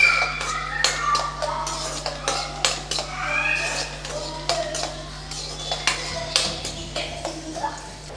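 Onion sautéing in a pan for egg rice, with frequent metallic clinks and scrapes of a ladle against the pan over a low steady hum, close and fairly loud.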